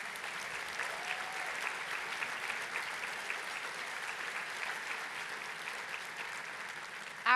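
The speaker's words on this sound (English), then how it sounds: "let's give them a round of applause" An audience at a conference opening session applauds the board of trustees with a long, even wash of many hands clapping, steady in loudness from start to finish and free of voices.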